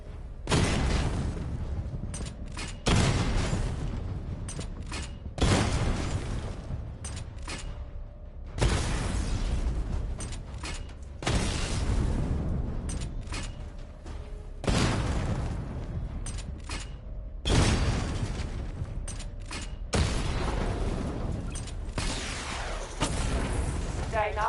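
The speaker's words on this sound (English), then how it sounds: "charge up weapon energy and activate missile barrage" Missile barrage firing in Batman: Arkham City comes as repeated loud booming volleys, about every three seconds, each a broad roaring burst that decays into mechanical rumble, with game sounds filling the gaps.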